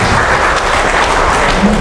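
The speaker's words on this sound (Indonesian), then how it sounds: "Ya tepuk tangan dulu untuk kita." A crowd at a labour rally in Banten claps in a dense, continuous wash of applause that stays steady throughout and sounds close and fairly loud.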